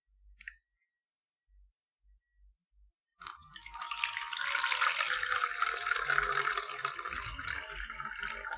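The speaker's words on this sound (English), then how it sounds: "Listen to the sound of the water." Water running steadily from a tap, loud and continuous after a few seconds of near silence with faint knocks at the start.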